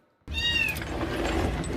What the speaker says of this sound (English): There's a cat stuck in a Komatsu.